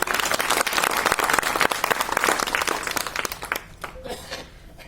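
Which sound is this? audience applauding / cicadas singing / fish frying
audience applauding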